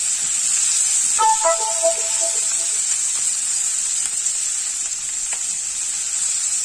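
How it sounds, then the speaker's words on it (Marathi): Sliced onion cooking in a pan with turmeric and nearly cooked potatoes for a potato-leaf bhaji, a steady bright sizzle throughout with a brief faint tonal chirp near the start. "चिरलेला कांदा घालायचा आहे आणि आता याला सोबत शिजू द्यायचं आहे"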